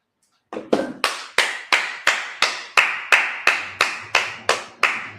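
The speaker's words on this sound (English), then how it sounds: "All right, let's clap it up." Congregation at a Sabbath service claps in unison, about a dozen sharp, evenly spaced claps in a steady rhythm, close and distinct with brief decay between each.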